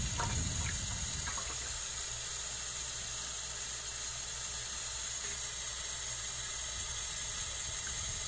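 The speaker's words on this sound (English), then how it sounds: "It's filled with water." Water pours steadily into a record-washing tub from a Spin Clean system, a constant hissing gush with a brief splashy start, even and unbroken throughout.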